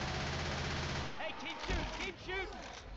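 Rapid bursts of automatic gunfire in Left 4 Dead 2, dense and continuous, with an excited voice talking over the shooting.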